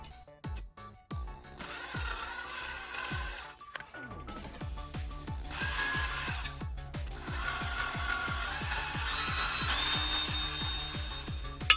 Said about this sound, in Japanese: ハサミの先っちょが入る穴をドリルで開けていきます